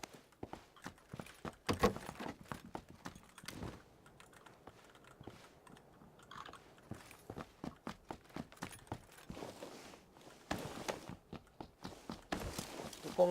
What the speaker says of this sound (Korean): 발소리 잘 들어야 돼.